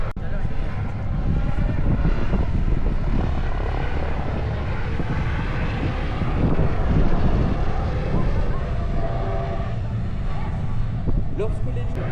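A loud, steady helicopter drone at an air show fills the whole stretch, with a voice talking over the rumbling engine noise.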